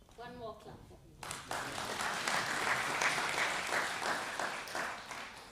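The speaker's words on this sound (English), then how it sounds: "One more clap for me." An audience at an East African social entrepreneur business forum claps in sustained applause, loud and dense, rising after a brief spoken line and continuing steadily to the end.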